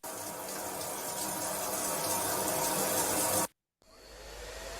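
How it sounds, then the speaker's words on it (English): A shower runs with a steady, loud hiss of spraying water, cut off abruptly, then a briefer stretch of flowing water after a short silence. "When I get home, I take a shower"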